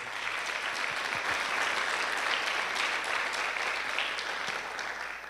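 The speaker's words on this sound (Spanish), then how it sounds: "Dale un fuerte aplauso al Señor." Church congregation applause during a sermon, a sustained, even roar of many hands clapping in a large room, steady throughout with faint voices underneath.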